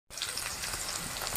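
Chilli and garlic sizzling in hot oil for a tadka, a dense crackling fry that starts abruptly and holds steady at close range, with no voices.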